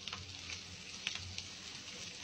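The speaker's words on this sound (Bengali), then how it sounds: "পেঁয়াজগুলোকে উল্টে পাল্টে ভালোভাবে নাড়াচাড়া করে লাল লাল করে ভেজে নেব।" Onions and chilies fry in a pan for mustard hilsa, a soft, steady sizzle with faint stirring scrapes and a couple of small ticks, quiet and without voices.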